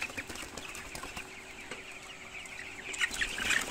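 Chickens in a coop clucking softly and intermittently against low background noise, a few sharper calls rising near the end.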